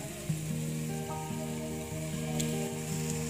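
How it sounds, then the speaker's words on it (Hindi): Carrots and potatoes fry in a pressure cooker for dal khichdi, giving a steady, close sizzle that runs the whole time under a layer of background music. "अब हम इसे अच्छी तरह से मिला लेंगे और हम इसे एक मिनट के लिए भून लेंगे"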